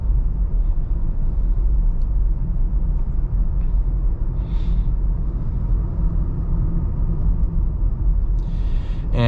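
A steady, loud low rumble of road and engine noise inside a 2025 VW Jetta with an 8-speed automatic and front-wheel drive, cruising continuously with no distinct bumps standing out.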